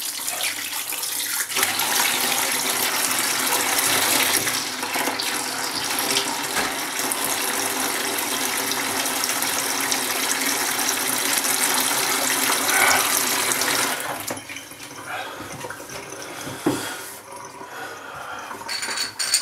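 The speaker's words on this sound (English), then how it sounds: "let me just wash this blade out" Tap water runs hard into a sink while a razor blade is rinsed, a loud steady gushing stream that drops to a softer trickle and splashes toward the end.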